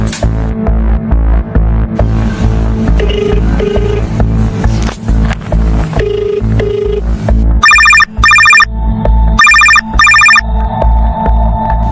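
A dialed phone call rings through with a repeating electronic ringtone in bursts, set over a steady low throbbing hum and background music. It is loud and close, and no one speaks.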